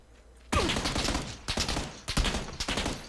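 Rapid automatic gunfire in the game PUBG, several loud close bursts separated by brief gaps, each a dense rattling volley with sharp onsets.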